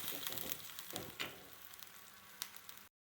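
Onion, garlic and curry leaves fry in hot oil, a faint, steady sizzle with a few louder crackles and pops before it cuts off abruptly near the end.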